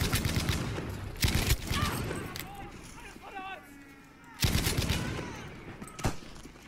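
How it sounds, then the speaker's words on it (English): Machine gun fire in Battlefield V comes in two loud, rapid bursts separated by quieter battlefield noise, with a voice briefly heard in the gap. "He has a fucking machine gun."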